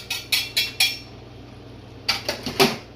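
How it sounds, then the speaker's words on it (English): A spoon scrapes and clinks around a pot of cheesy taco pasta, with a few quick metallic strokes, a pause, then another burst of stirring clatter, close and fairly loud. "Give it another little stir, waking it up."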